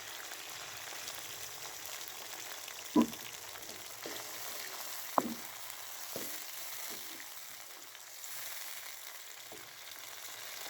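Keema bhindi masala with browned onions and tomato sizzles and fries steadily in a pan after a splash of water, with a few sharp clinks of a spoon against the pan over the constant hiss.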